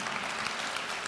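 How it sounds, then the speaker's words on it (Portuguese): A church congregation applauds in a dense, steady wash of many hands clapping at once, continuous and fairly distant-sounding, with no single clap standing out. "vamos aplaudir o Rei dos Reis"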